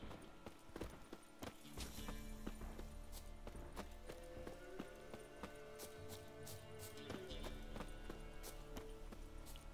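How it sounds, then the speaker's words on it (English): Horses in a video game clip-clopping along at a steady walking pace, with an occasional whinny rising over a busy background of game ambience and music. "There's the horses."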